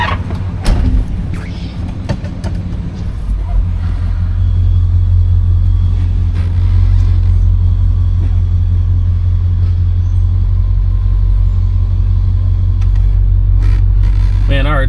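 A 1973 Chevrolet Caprice out on a test drive gives a loud, steady low rumble of engine and road noise that builds in the first few seconds and then holds, with voices talking over it.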